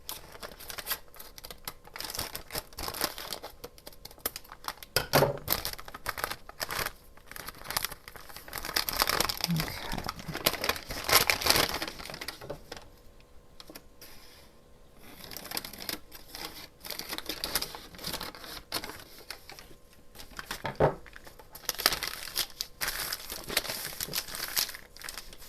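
Paper bag flap folded by hand while making a journal: scattered crinkles, creases and soft rustling bursts come in uneven clusters, with a person talking throughout.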